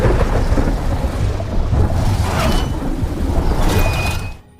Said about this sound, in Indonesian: Cuaca yang buruk dengan angin kencang disertai hujan petir dan gelombang laut yang tinggi